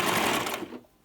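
A sewing machine stitches a closure wig, a dense, close whirring run that stops abruptly near the end of a brief burst.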